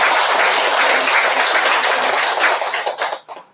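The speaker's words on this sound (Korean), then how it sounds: "우리 37가정의 식구님들 모두 또 건강하시라고 격려의 박수 한번 드리겠습니다" Congregation applauding in encouragement at a church service, dense steady clapping from a full room that holds for a few seconds and then tapers off into scattered claps.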